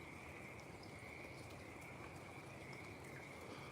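Steady rain falls, a broad even hiss with a constant high insect or frog trill running through it, no pauses and no voices.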